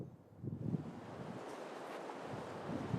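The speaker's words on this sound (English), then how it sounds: "with the ocean lapping at its shore" Ocean waves wash steadily against the Long Beach, California shoreline, a continuous low rushing roar mixed with wind buffeting the microphone.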